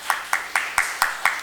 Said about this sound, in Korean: 이런 때 박수 한번 치는 겁니다.